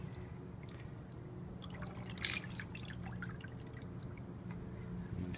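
Water from a pump trickles and drips into bottles of a small desktop garden prototype, a steady faint trickle with a brief louder splash midway.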